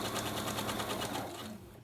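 A sewing machine stitches a pillow seam in a fast, even run of mechanical pulses. It is close and fairly quiet, and it stops near the end.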